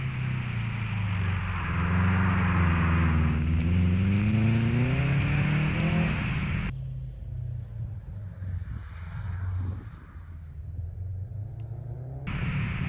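A 2006 Subaru STi engine at full throttle through an autocross slide on a winter course, a loud sustained roar with rising and falling pitch for about six seconds, then dropping to a lower rumble before surging again at the end.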